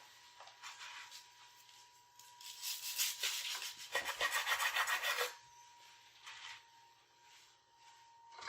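A knife saws through the toasted crust edges of a layered club sandwich, giving a dry rasping scrape that builds to a loud burst in the middle, then tapers into lighter strokes.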